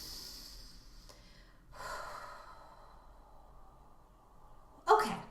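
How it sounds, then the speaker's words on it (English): A single deep breath drawn in slowly and let out, quiet and close, with a sharper audible exhale or sniff near the end; no speech. "Take another big deep breath."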